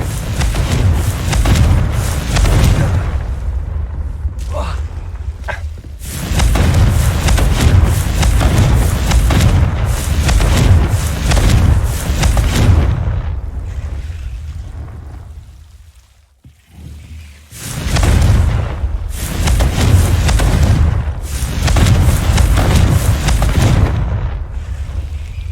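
Confringo fire spell blasts in the Hogwarts Legacy video game, heavy rumbling booms that roll on almost continuously and loudly, with a brief lull partway through before they build again.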